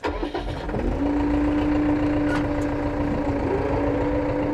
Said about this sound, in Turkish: şu an puluğumu takmak için traktörümü çalıştırıyorum